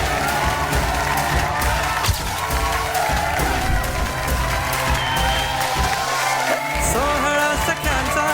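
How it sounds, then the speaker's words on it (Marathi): A studio audience at a Marathi women's TV show, Sohala Sakhyancha, applauds and cheers loudly and steadily throughout, with whoops and music mixed into the dense clapping. "क्या बात आहे, जोरदार टाळ्या होऊन दे."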